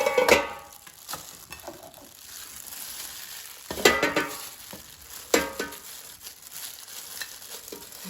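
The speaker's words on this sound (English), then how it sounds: "let's put it in the air fryer basket" Seasoned pork bites are dropped into an air fryer basket, with soft scraping, light clattering placements and faint crinkling in irregular bursts at close range.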